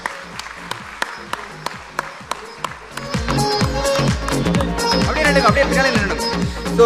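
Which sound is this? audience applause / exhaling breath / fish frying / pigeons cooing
audience applause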